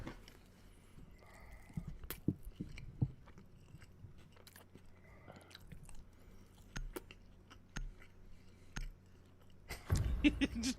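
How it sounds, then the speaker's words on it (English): Someone chews a cold McDonald's McDouble right up against a microphone, producing close, wet mouth clicks and soft crunching bites in an irregular rhythm over a quiet background. "Just chewing into the mic."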